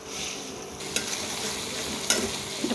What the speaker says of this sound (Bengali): এবারে দিয়ে দিচ্ছি আদা, রসুন আর পেঁয়াজ বাটা।